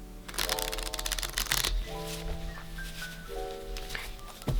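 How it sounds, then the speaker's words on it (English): Rapid crackling riffle of playing cards being shuffled, a dense flurry of fluttering clicks up close, with some tonal music playing underneath. "So this is the original shuffle."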